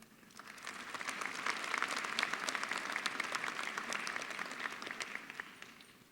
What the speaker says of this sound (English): I would also like to acknowledge the board members not present with us with a round of applause,